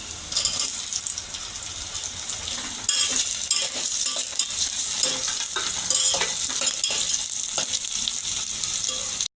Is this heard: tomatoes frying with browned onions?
yes